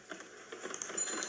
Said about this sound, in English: It's very rainy. Raining.